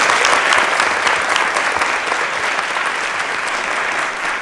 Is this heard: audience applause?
yes